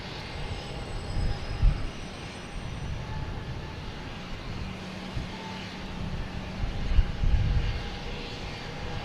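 American Airlines airliner arriving at Boston Logan from Indianapolis, a steady, moderate engine rumble with a faint whine that stays fairly constant and is heard at a distance.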